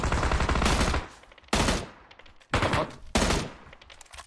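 Bursts of M249 machine gun fire in PUBG, four loud sustained volleys of rapid automatic shots separated by short quieter gaps, close and dominant.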